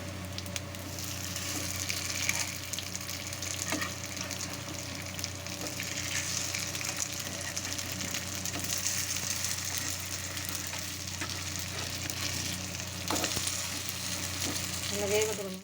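A semolina and vermicelli batter fries on low heat in a pan, giving a soft, even sizzle that runs steadily throughout with a few faint clinks.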